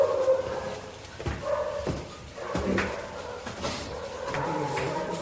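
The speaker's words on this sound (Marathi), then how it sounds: "खाली लागलं कुत्री बोकायला." Several dogs bark downstairs in an apartment building at night, sharp yelps and barks scattered at a distance, echoing in a stairwell over low background noise.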